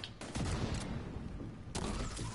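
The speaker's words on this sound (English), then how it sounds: "Yeah, they've been shooting fire grenades." Sustained gunfire and bursting fire grenades in the shooter game Tom Clancy's The Division 2, a dense continuous roar of shots with sharper bursts near the start and end, no voices.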